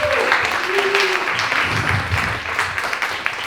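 Comedy club crowd claps and cheers in a dense, continuous wash of applause, with voices shouting and murmuring through it at a live stand-up show.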